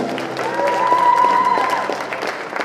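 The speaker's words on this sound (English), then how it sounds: "please give Joey a huge round of applause for buying our CD." Audience applause at a live concert by a string band, a steady wash of clapping from a modest crowd filling the room, with a sustained whistle or instrument note ringing faintly through the middle.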